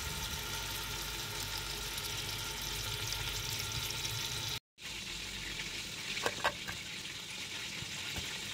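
Chicken, onion and vegetables fry in a pot for a trida sauce, giving off a dense, continuous sizzling hiss that cuts out for a split second and then resumes, with no talking.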